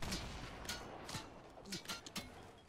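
Gunfire in the Fortnite battle royale video game, a series of faint, distant-sounding shots popping irregularly over a busy background of game noise.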